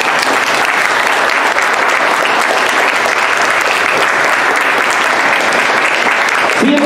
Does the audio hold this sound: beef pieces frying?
no